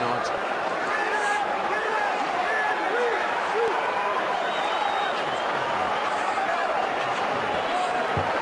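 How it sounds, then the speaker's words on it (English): A rugby stadium crowd supporting the Springboks in 2014 keeps up a steady, dense roar of cheering and shouting, with no break or swell across the whole stretch. "Courtesy of some awesome crowd supporting the Springboks"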